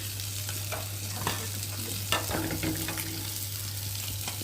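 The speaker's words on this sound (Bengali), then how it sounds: "মাছ দু পিস করে ভালো করে ভেজে নিয়েছি" Pieces of fish fry in a small amount of oil, giving a steady close sizzle with occasional spatula scrapes and a low hum underneath.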